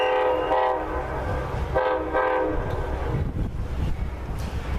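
An eastbound Amtrak Pennsylvanian passes close by, sounding its K5LA horn in loud sustained multi-tone blasts with a short break, over the rumble and rattle of the train.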